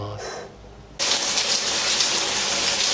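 A shower runs in a shower booth of the United Airlines lounge at Narita Airport's international terminal. After a quiet second with a brief soft splash, the spray bursts on into a loud, steady hiss of falling water.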